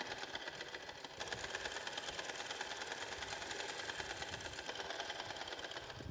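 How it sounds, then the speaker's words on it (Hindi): A sewing machine stitches the border of a small girl's frock, a steady fast rhythmic whirring throughout, fairly faint and close, with no talk. "बॉर्डर की सिलाई लगा रहे हैं।"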